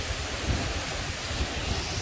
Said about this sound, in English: Whoa, that was a big wind gust.